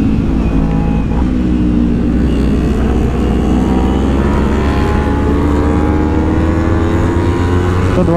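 A Yamaha R1 sport motorcycle's loud engine drones close by at a track day fun race, its pitch sweeping upward repeatedly as the throttle opens and revs climb.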